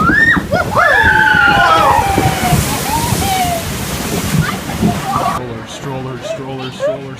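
Splash Mountain log flume at Disneyland plunging down its drop into water, a loud broad rush and splash with riders' voices and cries over it, fading into background music near the end.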